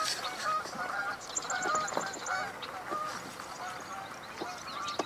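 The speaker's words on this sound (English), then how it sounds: "I see a few Canada geese in the air, 4 of them." Canada geese honking in flight over a marsh, a short run of repeated nasal honks at moderate distance amid birdsong and chirping, with one or two brief faint voices.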